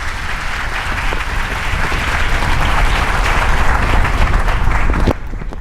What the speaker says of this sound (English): Give him a round of applause as we transition.